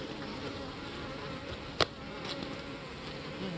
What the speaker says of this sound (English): The worker bees do try to guide her.